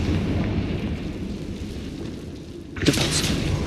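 A Confringo fire spell from Hogwarts Legacy bursts near its end, a sudden bright blast rising out of a steady low rumble of background ambience and then tailing off.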